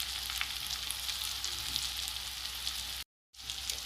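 Onions and seasoning sizzle steadily in a hot pan while being stirred, a loud continuous crackling hiss that cuts out briefly near the end before resuming.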